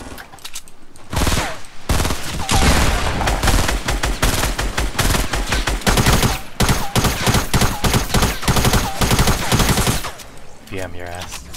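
Rapid, sustained gunfire in the video game Fortnite, loud close bursts of shots fired in quick succession for about ten seconds before tapering off, with a player's voice briefly audible near the end.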